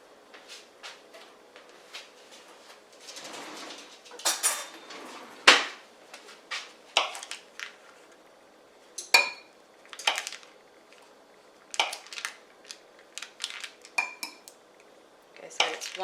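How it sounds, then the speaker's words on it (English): Butter pieces and sugar being mixed in a bowl for banana bread, with irregular clinks and scrapes of utensil against dish, close up, fairly loud, no speech. "I am going to mix the wet ingredients."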